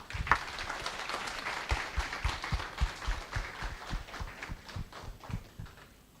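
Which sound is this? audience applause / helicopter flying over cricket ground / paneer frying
audience applause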